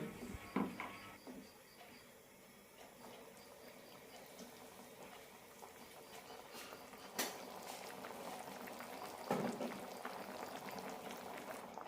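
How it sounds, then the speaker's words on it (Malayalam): Chickpea curry made with only a little coconut simmers in a pot, giving a soft, steady bubbling hiss at low volume with a few sharper pops and clinks scattered through, and no one talking. "രണ്ട് മൂന്ന് മിനിറ്റ് കറി നന്നായി തിളപ്പിക്കാം"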